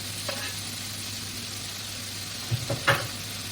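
Sliced onion goes into bacon frying in a pan, giving a steady close sizzle. Near the end come a few brief scraping and clattering knocks of a utensil stirring, with no talking.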